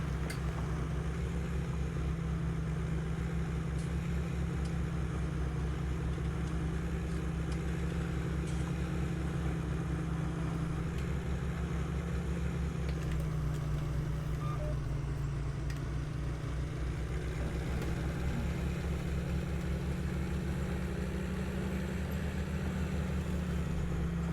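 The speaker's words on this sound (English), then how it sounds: "Just love the sound of this tractor." A tractor engine runs on a farm, a steady low rumbling drone that holds evenly for the whole stretch with no voices over it.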